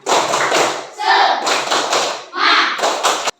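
A class of schoolchildren performs the tepuk semangat, a rhythmic clapping chant, with bursts of loud, close group clapping and chanting voices coming in and out in short phrases.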